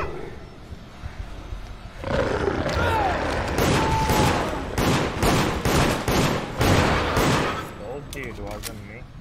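Gunshots in the horror game Deceit, a run of sharp loud bangs in uneven succession after a quieter opening, mixed with roaring creature noises and shouting voices.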